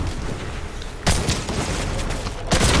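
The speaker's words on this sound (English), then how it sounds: "Who is shooting at me, dude?" Gunfire in the Fortnite video game: dense, loud bursts of shots and booms fill the whole stretch, growing sharper near the end, with no talking.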